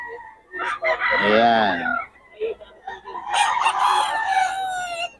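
A Boston gamecock rooster crows at a busy market in Bocaue, two long strained calls close by, while someone talks between and over them.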